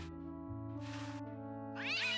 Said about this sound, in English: See if we can do anything with the cat.